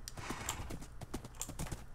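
Horse hooves clip-clop in quick, uneven beats in a video game, a rapid run of close, hollow knocks lasting about two seconds with no speech.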